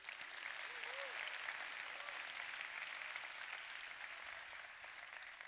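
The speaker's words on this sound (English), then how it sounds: "let's give them a round of applause" Applause from the audience at the Google for Indonesia 2017 event welcoming the first Google certified developers in Indonesia, a steady, even wash of clapping sustained throughout with a faint voice briefly over it early on.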